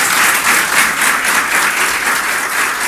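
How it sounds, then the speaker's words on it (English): Dense, steady applause from a large audience fills the room at a birthday honouring event for a chairman turning 52, loud and close with no gaps. "Put your hands together for them."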